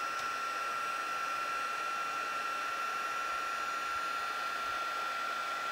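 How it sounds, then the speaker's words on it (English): Steady whooshing roar of a heat embossing gun melting embossing powder over a Distress Oxide background, constant and fairly close for the whole stretch with no talking. "it will melt this and it will make it really cool"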